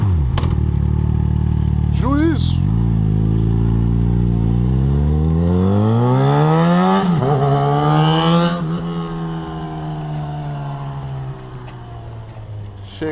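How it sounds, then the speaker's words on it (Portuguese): A motorcycle engine, a Kawasaki Ninja 300 or Yamaha XJ6F, revs loudly up close, then pulls away, its pitch rising through the gears and the roar fading into the distance; a voice shouts briefly. "vou dar uma volta na minha moto"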